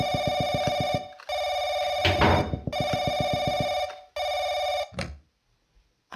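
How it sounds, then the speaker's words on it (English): Telephone ringing in the horror video game Paranoiac: four long, loud electronic ring bursts separated by short gaps, with a brief clatter in the middle, heard alone before fading into quiet. "Phone, guys."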